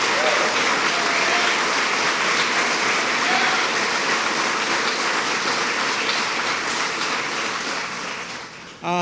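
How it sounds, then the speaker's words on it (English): Audience applauding Senator Kathy Young at a New York tourism campaign announcement, a dense, loud, sustained wash of clapping that fills nearly the whole stretch before cutting off near the end. "Let's give her a round of applause."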